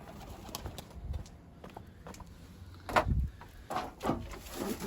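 A Mardin smoky pigeon coos softly and close by, with low throaty calls rising and falling over faint rustling and a brief louder burst partway through.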